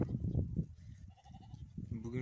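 Sheep bleat on a farm, with a few short calls rising between nearby human speech and handling noise.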